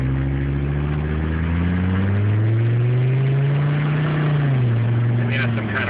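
A 1984 Mercedes-Benz 300D Turbo diesel engine pulls steadily under acceleration, its drone rising in pitch, then dropping briefly as the automatic gearbox shifts before climbing again, loud and close throughout.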